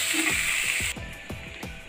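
A gas stove knob is turned off, giving a rapid series of near, dry mechanical clicks and ratchety ticks over a steady hissing background that drops abruptly partway through.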